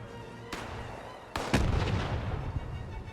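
A grenade blasts in the video game Fallout 76, a sharp crack followed about a second later by a louder boom that rumbles and crackles for over a second, with fainter gunfire-like pops trailing behind.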